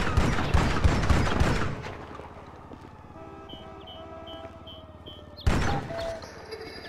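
Rapid bursts of gunfire from Grand Theft Auto V fill the first two seconds, loud and close, then give way to a quieter stretch of low engine-like hum and game tones before a single sharp blast near the end.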